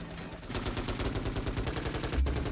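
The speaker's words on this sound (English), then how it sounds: "Squad, fire at will!" Rapid automatic gunfire from a squad of troopers in the strategy game Starship Troopers: Terran Command, dense overlapping bursts rattling steadily for the whole stretch with no voices.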